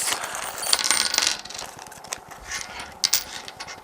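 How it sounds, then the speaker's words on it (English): Plastic bag of screws for a weatherproof external IR camera handled while unboxing, giving crinkly rustling and small metallic clinks and jingles in several bursts, close and moderately loud with no talk. "So what you'll find, a bag of screws."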